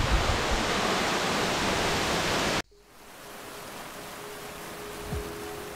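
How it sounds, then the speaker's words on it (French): Pissidilinda waterfall in Corsica roars as a loud, steady broadband rush, then the sound cuts abruptly to a much quieter, distant murmur of falling water with a faint tone in the background. "au détour du sentier, nous y sommes, la cascade Pissidilinda, le spectacle époustouflant"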